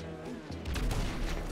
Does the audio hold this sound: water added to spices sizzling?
no